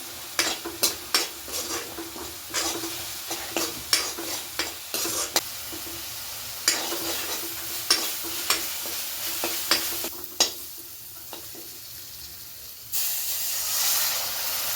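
Green chilies are stirred and fried in a pan, with a spatula scraping and tapping in a steady run of strokes over a continuous sizzle that swells into a louder hiss near the end.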